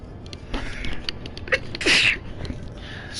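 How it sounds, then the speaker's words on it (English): A single sharp sneeze from a person indoors, near and brief, surrounded by quiet handling noises and faint rustling. "Didn't mean to sneeze in everybody's ear."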